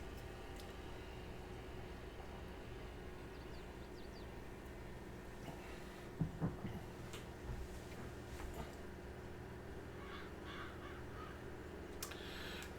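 Crows caw a few times at a distance in Farming Simulator 22, short calls scattered over a steady low engine-like drone with occasional clicks.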